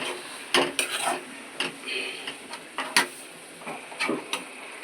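Ginger garlic paste fries in a pan for a stuffed brinjal curry, with a sequence of sharp metal clinks and scrapes from a utensil against cookware over a faint, low sizzle, close by and irregular.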